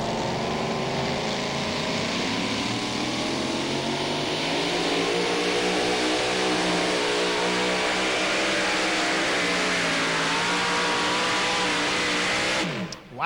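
A 2WD pulling truck at the 2008 NTPA Super Nationals in Tomah, Wisconsin, roars at full throttle through a long pull with a slight cylinder skip, its loud sustained scream climbing in pitch for about thirteen seconds before cutting off abruptly.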